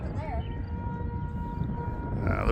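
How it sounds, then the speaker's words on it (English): A tornado siren wails during a storm chase under nearly clear skies, a steady sustained tone with a brief rising warble at the start, heard at a distance over constant background rumble. "Tornado siren going off."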